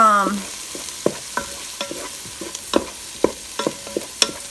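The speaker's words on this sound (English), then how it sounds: "I am going to go ahead and add the garlic." A single garlic clove sizzles in hot oil inside a Ninja Foodi while making loaded home fries, a steady close frying hiss punctuated by sharp utensil taps and scrapes.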